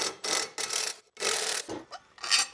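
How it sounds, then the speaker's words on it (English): Hand tools work on a motorcycle ignition, producing close ratcheting bursts in several short rhythmic runs separated by brief pauses, with no talk. "I'm gonna get this ignition taken off"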